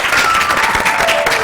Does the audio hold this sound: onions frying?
no